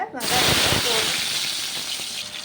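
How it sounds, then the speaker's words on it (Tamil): Fennel seeds spluttering in hot oil in a pan for Tamil-style crab gravy, a loud continuous sizzle and crackle with someone speaking over it. "பொரியுதுங்களா? எண்ணெய் காஞ்சிடுச்சு. இப்போ நான் சோம்பு போட்டுட்டேன்."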